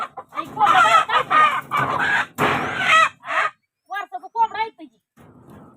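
A rooster crows and clucks loudly up close, mixed with voices, then a few short clucks and calls follow in quieter bursts.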